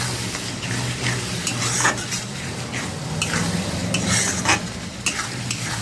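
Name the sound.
masala being stir-fried in a pan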